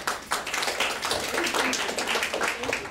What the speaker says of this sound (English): One more hand clap for Katie